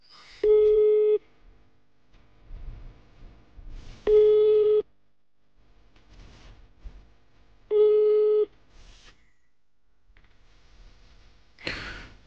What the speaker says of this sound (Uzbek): Demak, telefonni ko'targani yo'q